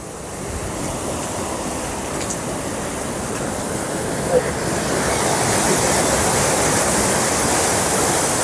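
Strong rushing water under high pressure near a temple riverside where people are fishing, a steady broadband roar that swells louder in the second half, with no voices.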